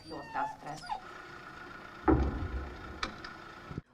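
Two dogs rescued from a war zone make short whimpers and yips, with a louder bark-like burst midway, heard close against a quiet indoor background.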